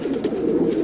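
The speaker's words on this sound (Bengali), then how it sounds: "কবুতরগুলো খাওয়ার পর দেখেন কেমন ফুরফুরা, সবাই ডাকাডাকি করতেছে" Pigeons cooing steadily after feeding, a dense overlapping chorus of soft low coos from several birds close by, with no voices.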